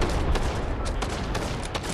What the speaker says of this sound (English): Drum gun.